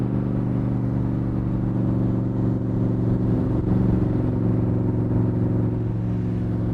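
A 1965 Superformance Cobra cruising in third gear at about 50 mph, its engine giving a steady, close, throbbing low drone with layered harmonics and a slight swell midway, with no talking.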